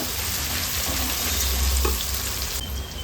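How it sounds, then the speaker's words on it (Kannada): Sliced onions fry in oil in a pan, giving a steady, close crackling sizzle throughout with a faint stir partway through. "ಚೆನ್ನಾಗಿ ಫ್ರೈ ಮಾಡ್ಕೊಳ್ಳೋಣ ಈರುಳ್ಳಿನ."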